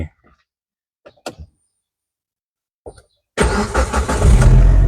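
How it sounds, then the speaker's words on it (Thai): A Proton sedan engine cranks and catches after a few short bursts, then settles into a loud, steady idle with revs rising, heard up close with no talking. "ติดเครื่องให้เบิ้ง"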